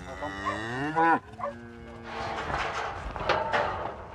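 Cattle on a mountain farm lowing, one close, drawn-out moo with falling pitch followed by softer moos, with farmyard clatter and background talk.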